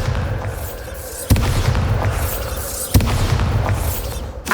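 Bombarda blasting spells in Hogwarts Legacy: two heavy, loud booms a couple of seconds apart, each a sudden thud followed by a sustained roaring, whooshing rumble, with a third softer burst at the very end.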